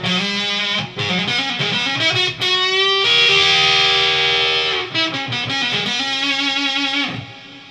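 Electric guitar played through a Vaderin Cherry Fuzz Sustainer pedal with reverb added, giving loud, thick, sustained fuzzy notes and chords that ring out and bend, played alone without talk.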